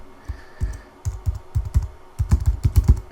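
Keys clatter on a computer keyboard while an email address is typed into a job-site alert form. The bursts of crisp, close taps come irregularly, speeding into a quicker run toward the end, with no voices.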